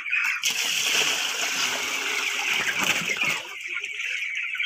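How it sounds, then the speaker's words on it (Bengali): Water splashes loudly and continuously as it is poured into a container, a close, rushing splatter that fades out near the end. "তো মা প্রথমে নর্মাল জলটা দিয়ে নিচ্ছে এখানে"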